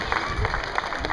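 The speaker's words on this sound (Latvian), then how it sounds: "Skaļāk. Aplaus vingrotājiem." An audience applauds gymnasts with a steady, dense clapping that continues without a break at moderate distance.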